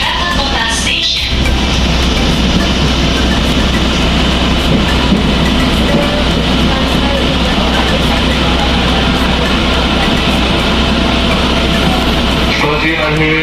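A commuter train arriving at Jakarta Kota station gives a loud, steady rumble and wheel noise heard from inside the carriage, with a brief squeal near the start and muffled voices mixed in.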